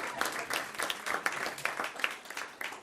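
Scattered applause from a board meeting audience, a modest crowd clapping in a steady patter at moderate distance for under three seconds, with no talk over it.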